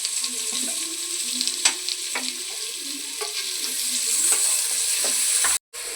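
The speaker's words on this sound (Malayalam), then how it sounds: "എണ്ണ ചൂടായിട്ടുണ്ട് അതിൽ നമുക്ക് വെലുജീരം ഇട്ട് കൊടുക്കാം രണ്ട് ചെറിയുള്ളി ഇട്ടത്" Cumin seeds and shallots sizzle and crackle in hot oil for a Kerala-style kadala curry, a steady close frying hiss with scattered pops and light stirring scrapes, ending in a sharp clatter.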